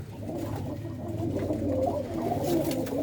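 Several pigeons coo together inside a mud-walled loft built with nesting boxes, a dense, continuous murmur of overlapping low calls with no talk.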